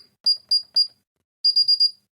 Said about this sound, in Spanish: Alarma pánico de emergencia y se pone a pitar el teclado